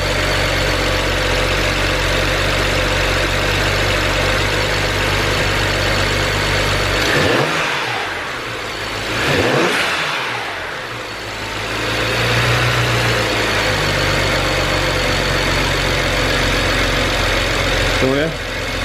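BMW 335i E90 engine idling steadily after a restart, then revved with a couple of throttle blips that rise and fall, close and loud, with no voices.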